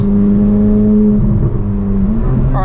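Loud, steady exhaust drone from a Chevrolet C8 Corvette Z06 with a titanium race exhaust, holding a high idle-rev note that wavers and dips briefly before a sharp rise at the end.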